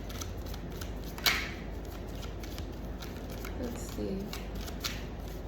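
A deck of tarot or oracle cards being shuffled by hand, a soft continuous riffling rustle with one sharper snap, close and fairly quiet while a voice speaks briefly.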